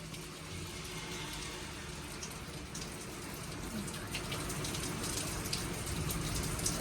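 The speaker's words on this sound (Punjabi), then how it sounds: "ਇੰਨਾ ਜ਼ਿਆਦਾ ਤੇਜ਼ ਮੀਂਹ ਆ" Heavy rain pours down during a downpour in Italy, a dense, even wash of hiss that stays low and distant throughout and grows a little stronger toward the end.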